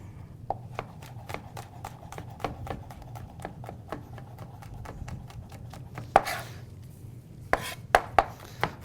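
Fresh garlic is chopped on a board with a knife, giving a steady run of sharp, evenly spaced taps that speeds into a few quicker, louder chops near the end. The sound is close, and no one talks.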